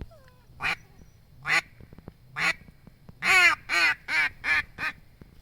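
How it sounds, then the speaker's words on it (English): Duck call greeting call blown by a person: a few spaced single quacks, then a quick cadence of five quacks in a row, each crisp and close. "that greeting call, all it is 4 to 6 quacks in a row in a cadence"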